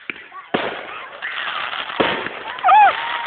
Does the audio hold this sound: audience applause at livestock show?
no